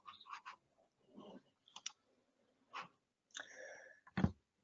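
Sharp computer mouse clicks, a few close taps scattered among soft breaths and faint indoor handling noise in a quiet room.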